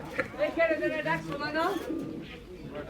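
Pigeons at a busy pigeon market in Bangladesh, low cooing and bird calls close by, mixed with crowd chatter and nearby voices talking over them.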